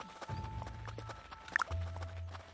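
Horse hooves walking in the video game Kingdom Builders: steady, soft clip-clop steps at an even pace, fairly quiet, with a brief sharp game cue partway through.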